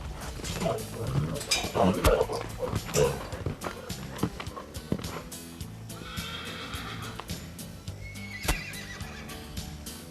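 A horse neighs and whinnies loudly at close range while hooves clip-clop in uneven steps, with a voice briefly heard underneath.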